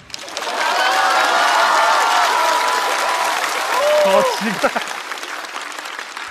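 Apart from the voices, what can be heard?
audience applause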